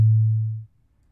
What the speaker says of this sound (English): This particular envelope that we're using, that fades in very quickly, holds and then releases, has a kind of bell-like percussive quality